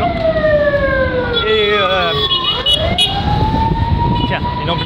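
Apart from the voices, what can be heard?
ambulance siren passing by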